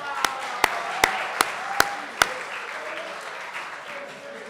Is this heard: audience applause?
yes